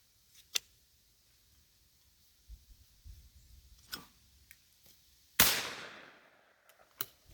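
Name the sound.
shotgun firing at clay pigeons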